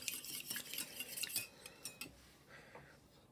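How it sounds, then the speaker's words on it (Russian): Egg whisked in a bowl for onion-ring batter, a quick run of bright metallic clinks and scrapes from the whisk, close and clear, slowing and thinning toward the end. "Я взяла венчик и буду смешивать все венчиком."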